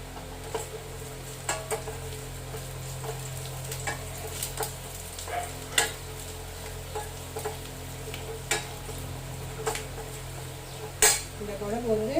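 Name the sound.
sautéing garlic in a pan, stirring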